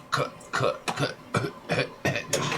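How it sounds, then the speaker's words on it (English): A rough, sputtering chug from a rudimentary boat engine repeats in quick uneven bursts, like an old engine coughing as it tries to turn over. "you hear the weird chugging sounds coming from the back of the boat"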